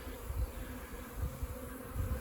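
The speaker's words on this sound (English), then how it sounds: "I have just come across a swarm of bees." A swarm of bees buzzes in a steady, dense drone outdoors, fairly faint and continuous with no voices.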